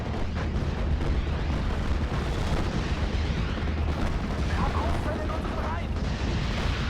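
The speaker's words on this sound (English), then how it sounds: "Oh, that Nebel hit that mortar twice." Nebelwerfer rocket barrage striking a mortar position in the WWII strategy game Steel Division: Normandy 44, with dense, continuous rumbling explosions and blasts filling the whole stretch.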